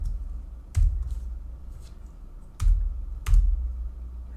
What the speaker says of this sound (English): And you can see I'm typing lowercase in all of them.